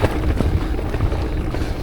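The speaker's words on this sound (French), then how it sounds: "Et aujourd'hui, le vent est frais" Strong wind buffets the microphone of a gravel bike ridden solo on a long-distance Flanders ride, a steady loud rumbling roar without a break.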